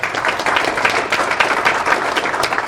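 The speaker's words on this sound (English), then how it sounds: "So a round of applause for Pinnacle." Room full of people at a monthly meeting claps for the sponsor, a loud, close, continuous patter of many hands throughout.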